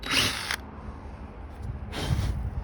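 A power drill bores holes through insulation inside a camper van, two short whirring bursts separated by a quiet pause, close and loud.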